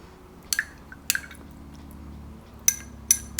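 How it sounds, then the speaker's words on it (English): Paintbrush rinsed in a water cup during gouache painting: four short clinks and drips spaced apart, crisp and close, over a quiet room. "you can see the water being rinsed down there"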